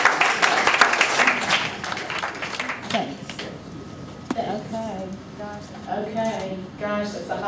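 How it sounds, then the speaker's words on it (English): Audience at an evening history panel giving a round of applause, a brief scattered clapping burst that quickly dies away as a speaker starts talking over the room. "once again a round of applause for Dr."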